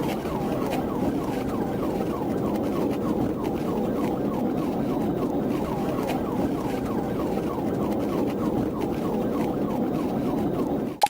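A police car siren wails in a steady, rapid warble throughout, loud and close under constant road and engine noise, during a 2024 pursuit of an unplated motorcycle.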